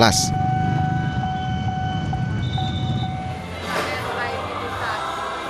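A train rumbles past nearby with steady low clatter and a brief high whistle-like tone, while voices of a crowd waiting at a crossing in Bogor, Indonesia murmur underneath.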